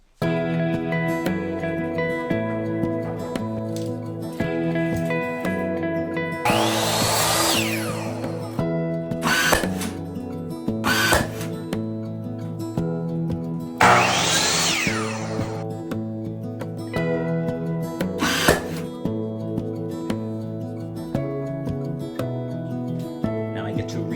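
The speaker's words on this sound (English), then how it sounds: "So let's get some of that trim cut." A power saw cuts wooden crown and trim molding in bursts, the high whine spinning up and biting through the wood twice, loud and close over a continuous background of music.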